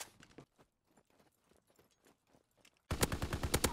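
Gunfire in Call of Duty: WWII bursts in loud and close at the end as a rapid automatic volley, following quieter scattered distant shots and movement during an online match.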